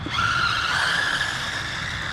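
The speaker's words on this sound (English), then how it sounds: "Oh, spun out a little bit. That was just the Mini." A small, cheap mini RC car skids and spins out, giving a thin, high tyre squeal over a whirring electric motor. The squeal lasts about a second close to the microphone, then fades into the motor hum.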